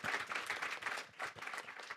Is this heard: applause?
yes